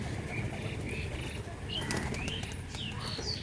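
Pigeons coo softly and call in scattered short notes while a brief flurry of wing flaps sounds midway, all over a continuous dull background rumble at a home pigeon loft.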